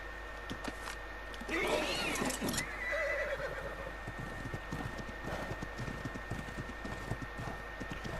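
A horse in the game Ark whinnies loudly in one long, shrill neigh, followed by a quieter second call. Steady clip-clopping hooves run underneath, faint against a low hum.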